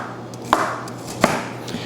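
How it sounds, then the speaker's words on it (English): A chef's knife slices down through layered tomatoes, onions and green peppers on a cutting board at a market, giving three crisp, evenly spaced chops, the last one softer, with no talking. "once I cut, it's automatically diced"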